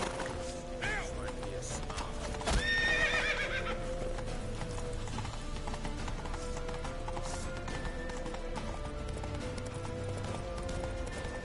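Galloping hoofbeats pound steadily beneath a busy soundtrack in The Witcher 3, with a horse's whinny rising briefly near the start; voices shout in the background.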